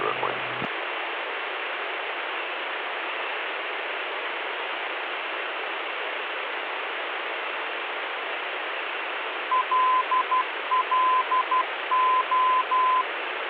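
Steady radio hiss fills an aircraft audio panel in a Cirrus during IFR training, and later a nav radio's Morse code identifier comes through as short, evenly pitched beeps in repeated dot-dash groups.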